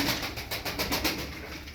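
Kirli dumanlı game pigeons coo in a soft, repeated rhythm of several low pulsing calls, close by and fairly quiet, with no talking over them.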